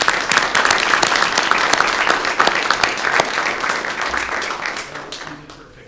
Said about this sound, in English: let's give our young leaders a round of applause.